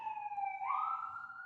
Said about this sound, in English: sirens are going off